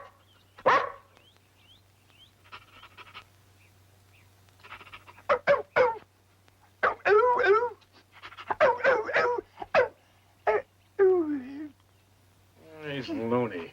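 A dog in an old comedy film gives several short, sharp barks and yelps spaced irregularly, with people talking in between and around them.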